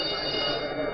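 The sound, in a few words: ship's alarm bell ringing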